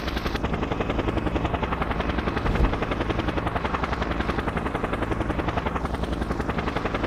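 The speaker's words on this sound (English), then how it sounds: "Oh, it's one of those helicopters I used to kill that other guy with." A helicopter in the video game Just Cause 1 thrums steadily and loudly, its rotor chop filling the whole stretch with a dense, continuous drone and a brief heavier swell near the middle, with no talking over it.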